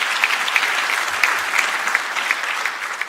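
Full, even applause from a big crowd at a space conference opening session, continuous and loud throughout with scattered sharper claps standing out.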